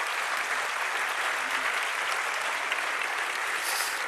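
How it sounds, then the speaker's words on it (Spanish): A church congregation at a revival service applauds a sister from a mission center, dense, even clapping from a large crowd sustained at steady loudness throughout. "vamos a darle aplaudir por Imiran, por la hermana Imiran"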